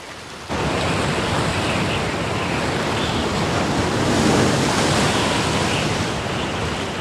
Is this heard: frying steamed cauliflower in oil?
no